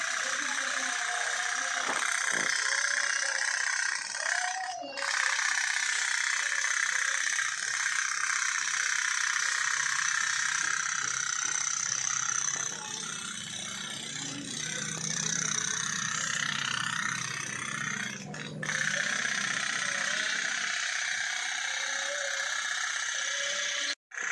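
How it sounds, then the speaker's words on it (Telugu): A small toy steam boat engine chugs and rattles steadily for the whole stretch, a busy mechanical clatter with a brief pause midway, heard up close. "ఓకే, స్టార్ట్ అవుతుంది ఇంజన్."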